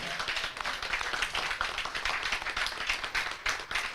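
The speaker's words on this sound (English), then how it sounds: "I just want us to give a very big round of applause to our new" Dense, sustained clapping from a Rotary Club gathering in Kampala welcoming new members, a busy wash of many hands close by and fairly loud, continuing without a break.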